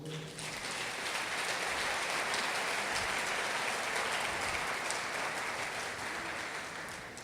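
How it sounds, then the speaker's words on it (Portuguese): A church congregation applauds during a worship service in Araruama, Brazil: dense, steady clapping that fills the room and holds at an even level for about seven seconds. "Pode aplaudir o Senhor?"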